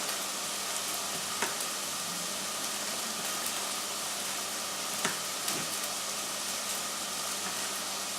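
Chopped vegetables, including small pieces of carrot, fry in a pan with a steady close sizzle, broken by a couple of brief clinks and stirring scrapes, with no voices.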